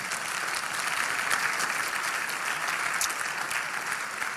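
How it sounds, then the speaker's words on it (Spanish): Church congregation giving a loud, sustained round of applause, a thick continuous roar of many hands clapping together, with faint cheering in the mix. "Démosle un fuerte aplauso al Señor."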